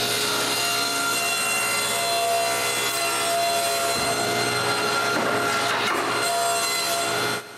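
A saw cuts through a plywood board to height in a workshop: a loud, continuous whining rasp of blade on wood with a steady motor hum, fading at the very end with no voices.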